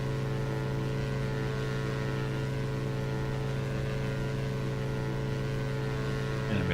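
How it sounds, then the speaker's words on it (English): Steady, droning engine hum of a Diamond DA62 twin in the X-Plane 11 flight simulator, a constant tonal buzz held at an even level throughout with no talk. "let's see if we can turn down the engine noise a little bit here"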